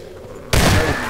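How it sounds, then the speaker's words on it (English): A loud explosion in the video game Half-Life 2 bursts in suddenly about halfway through, after a quieter stretch of game ambience, and its broad blast rumbles on to the end. "Even an explosion didn't stop it."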